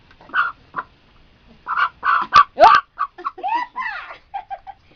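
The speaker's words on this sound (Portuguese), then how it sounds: "Aí, a galinha." A hen clucks in short, loud bursts, breaking into a squawking flurry midway before settling into scattered clucks, close and alone.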